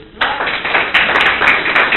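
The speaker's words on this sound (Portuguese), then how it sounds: "Palmas para o Senhor Jesus" A church congregation claps together in a quick, rhythmic beat, the sharp repeated claps close and fairly loud through a short burst.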